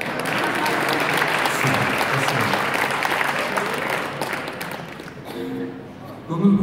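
Audience applause at an award ceremony, dense steady clapping from a large crowd filling most of the stretch before fading, followed by a voice speaking at the end.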